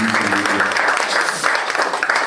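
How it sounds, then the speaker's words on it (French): An audience at a tribute to a father applauds together, a dense, lively burst of many hands clapping close by, with a voice faintly carrying through the clapping. "Applaudissons encore pour lui. Aidez-moi à applaudir pour"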